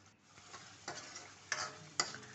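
A spoon stirs paneer gravy mixed with curd in a pan, making soft, quiet scrapes and a few sharper clinks against the pan over a faint background sizzle.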